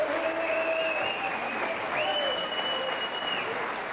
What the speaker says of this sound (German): Herr Windecker, Applaus für ein Konzert für Sie hier.